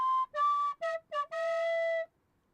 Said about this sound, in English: Professional tin whistle player.